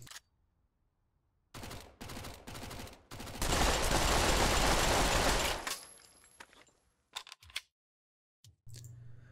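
Video-game gunfire from Pavlov and Counter-Strike: Global Offensive: short bursts of sharp shots, then a sustained loud automatic volley lasting a couple of seconds, followed by a few isolated clicks and mechanical handling sounds.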